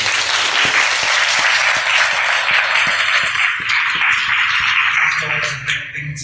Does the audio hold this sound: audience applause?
yes